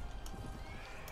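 A horse whinnies in the medieval combat game Mount & Blade: Warband, set within dense battle noise and clip-clopping hooves.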